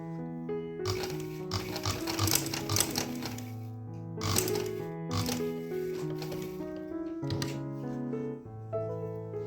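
A sewing machine stitches a cutwork sleeve design, running in rhythmic bursts of rapid clattering with short pauses between runs as the fabric is turned, close and fairly loud.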